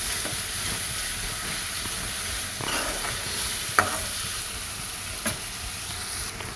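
Tomato and onion frying in a pan with a little salt, a steady soft sizzle with occasional faint clinks of stirring, close and alone without voices.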